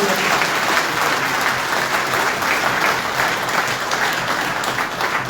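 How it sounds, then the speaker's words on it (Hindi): Loud, sustained applause rolls through a large audience at a budget seminar in Moradabad, a dense, even roar of many hands clapping without pause. "एक बार जोरदार ताली"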